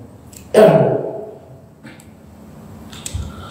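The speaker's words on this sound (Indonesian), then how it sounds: "Batuknya ini." A single loud, harsh cough bursts out near the start, then fades into quiet room noise with a faint shuffle afterward.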